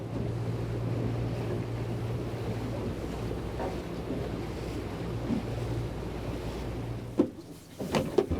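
Wind buffets and waves slap around a small fishing boat at sea off the UK as an easterly wind kicks up whitecaps. A low engine hum runs steadily under the gusts, then stops, followed by a few knocks against the hull.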